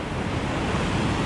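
Ocean waves at the start of Leme Beach in Rio de Janeiro wash in as a continuous dense rush of surf, loud and close, with some wind noise on the microphone.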